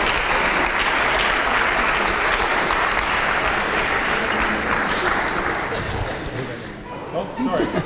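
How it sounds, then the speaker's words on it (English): Dense, loud audience applause fills a hall for volunteer award recipients gathered on stage at the Port Coquitlam Volunteer Awards, sustained evenly before thinning out near the end. "You can clap for them again."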